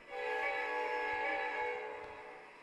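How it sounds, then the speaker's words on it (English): A National Rail locomotive horn in the Trainz train simulator sounds one sustained, loud, harmonic blast lasting over two seconds, fading slightly at the end, with no talking over it. "Oh yeah, that's an NR horn."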